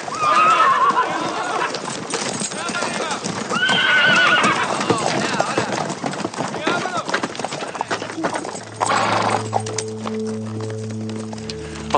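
Horses whinny loudly and hooves clip-clop on the ground amid shouting voices in a 1995 period TV drama scene, with a low sustained musical drone rising near the end.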